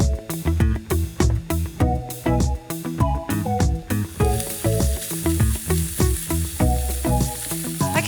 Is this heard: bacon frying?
yes